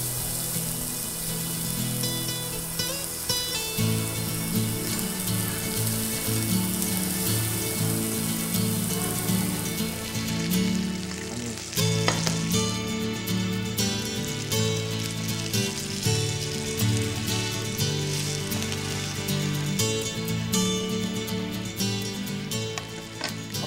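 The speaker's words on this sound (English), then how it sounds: "You put the fish on the pan." Fish frying in a K-ART Sliver Nano Marble nonstick pan with little oil, giving a steady, close crackling sizzle with bright spitting pops that runs continuously throughout.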